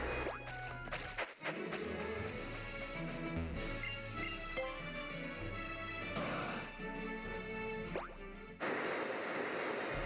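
Ocean waves wash steadily while surfing across the sea in Pokemon Omega Ruby/Alpha Sapphire, a continuous surf hiss under loud, busy game music for the whole stretch.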